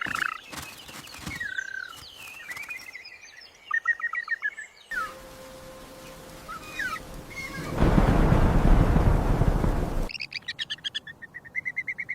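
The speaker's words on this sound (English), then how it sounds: "Chirp, chirp, chirp, chirp, chirp, chirp, chirp." Birds chirp near their nest, with short repeated tweets and calls at close range, broken up by quieter stretches and a burst of broadband noise.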